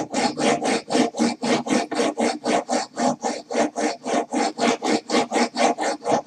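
A chisel is sharpened freehand on the coarse side of a sharpening stone, giving a steady rhythmic rasping, about three strokes per second, close and even, with no talk.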